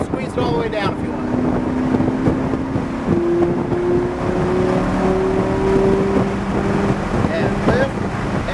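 Lamborghini Huracan engine climbing under throttle, its droning note rising steadily while wind rushes past, with a person talking over it throughout.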